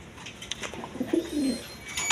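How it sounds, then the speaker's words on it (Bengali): A pair of Jacobin pigeons, sitting on two eggs, gives a close, soft rolling coo that swells in the middle of the clip, with a few light rustles around it. "দর্শকবৃন্দ এইখানে এক পেয়ার জ্যাকোবিন কবুতর আছে"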